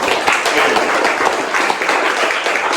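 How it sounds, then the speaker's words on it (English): A crowd gives a councilman a round of applause at a community gathering, with dense, steady clapping that stays loud and even from start to finish and no talking over it. "Let's give him a round of applause, please."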